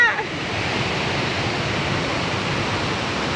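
A hidden waterfall in Luisiana, Laguna, rendered as a steady, dense rush of falling water that stays even and broadband throughout, with no clear voices over it.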